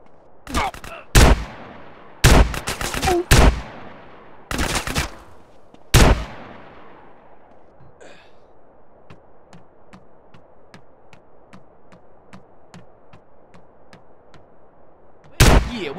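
Machine gun fire in GTA San Andreas: several loud bursts of shots early on, then a quieter run of evenly spaced single pops, and one last loud burst at the end.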